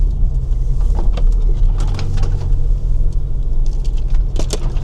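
A three-tonne Range Rover labours up a steep slope on a forest off-road track in Lithuania, its engine giving a steady, loud low drone that strains throughout, with no talk.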